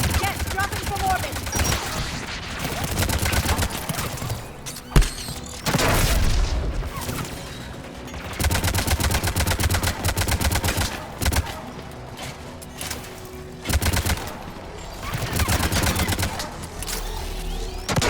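Anti-aircraft guns fire in rapid, rattling bursts with heavy booms during a Mass Effect 3 Legendary Edition battle as Geth drop from orbit, loud and close, with a voice speaking briefly in between.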